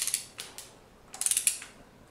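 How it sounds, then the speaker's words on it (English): A hand ratchet with a 10mm hex tightening bolts on the gearbox of an MK S pump, two short bursts of rapid metallic clicking, close and crisp, with quiet gaps between. "Use a ratchet with a 10mm hex to tighten the bolts."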